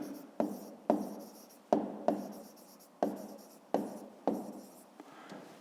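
Pen strokes writing out a fifth-grade math solution on paper, a series of about eight sharp scratchy taps and scrapes in an uneven rhythm, close and clear with no talking.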